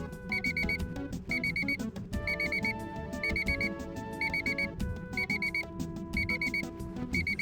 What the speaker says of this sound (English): I fucking hate that beeping